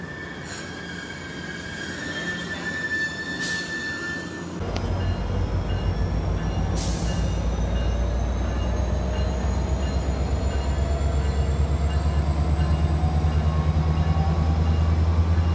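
Commuter train with two cab cars passing through BWI station, a loud steady rumble of wheels on rail rising partway through, with high wheel squeal and a brief ringing tone near, no voices.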